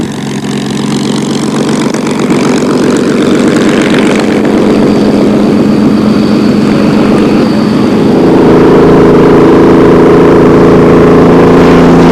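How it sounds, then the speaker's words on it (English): Privately owned two-seater propeller aircraft making a low pass, its engine drone steady and loud, swelling slightly as it nears, alone without talk. "A privately owned two-seater aircraft was brought in for the occasion."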